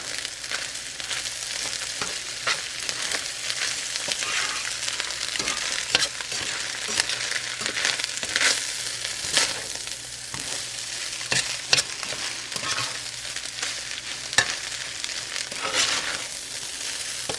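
Chicken fried rice fries in sesame oil in a hot pan, a continuous close sizzle broken by frequent clicks and scrapes as the rice is stirred and tossed, with no one speaking.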